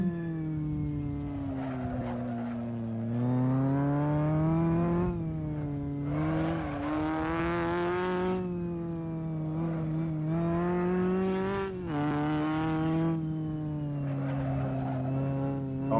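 A race car in a racing video game tears around the Targa Florio road course, its engine whining up through the gears and dropping at shifts, loud and continuous without talk.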